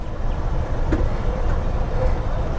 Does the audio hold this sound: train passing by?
yes